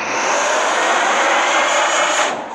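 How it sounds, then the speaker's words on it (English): A spaceship engine boost in a space combat video game gives a loud, steady, broadband roaring whoosh like a jet engine, holding for a couple of seconds and then easing off at the end. "Engine boost activated."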